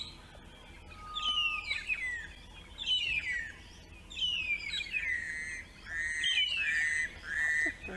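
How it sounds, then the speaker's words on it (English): Several birds call in bursts of warbling, descending whistles and chirps, moderately near, over a soft outdoor background hum, at sunrise. "The birds around here making noises."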